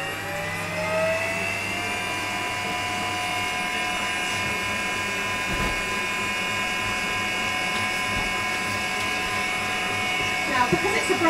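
A Kenwood kMix stand mixer runs steadily in a kitchen during a brownie baking demonstration, giving a continuous motor whine with stable tones, fairly loud and close, with no voices over it.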